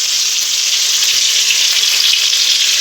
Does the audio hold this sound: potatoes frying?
yes